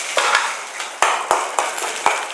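Masala for brinjal rice, with chana dal, is dry-roasted in a pan while a spatula scrapes and stirs, breaking into about five sharp, evenly spaced taps against the metal over a soft rustle.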